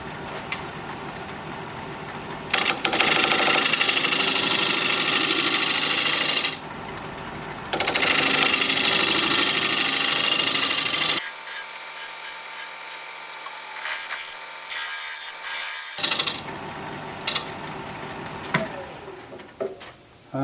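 Punky butternut wood on a lathe is cut with a 1/2 inch gouge in long scraping passes, loud and close, with short pauses between cuts and a quieter stretch of motor hum.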